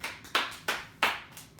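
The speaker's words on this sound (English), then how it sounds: "coming all the way down, clapping your hands," During a gentle healing yoga session, one person claps their hands three or four times at a slow, even pace, each clap crisp and fairly soft in a quiet room.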